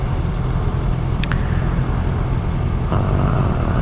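Steady motorcycle engine rumble with wind noise while riding along a road, constant and close throughout, with no talking.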